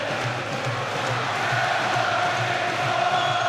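A boxing arena crowd roars and cheers for Ricky Hatton in his fight against Vyacheslav Senchenko, a dense, continuous wall of voices held at an even loud level throughout, with no clear single voice on top.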